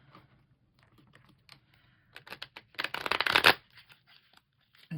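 A Tea Leaves oracle card deck being shuffled by hand: quiet scattered card flicks build into a short, dense burst of riffling and slapping, then trail off into silence.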